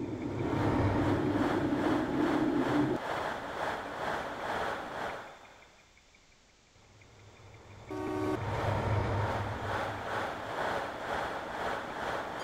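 A BR Class 55 Deltic diesel locomotive engine in the video game Train Simulator drones and rumbles steadily, fading briefly to a quieter hum before the heavy running noise returns.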